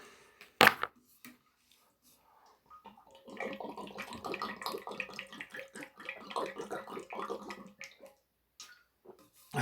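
Water runs or pours steadily for several seconds after a sharp knock, moderately loud and close, then stops; no one speaks.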